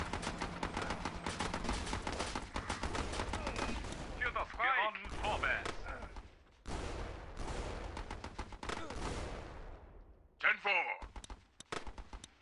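Dense bursts of video game gunfire fill the scene, rapid automatic volleys and loud cracks with brief pauses, some distorted echoing impacts near the end.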